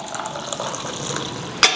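Remaining water poured into an AeroPress while brewing coffee outdoors on a backpacking trip, a close, steady trickling stream ending with a brief sharper splash.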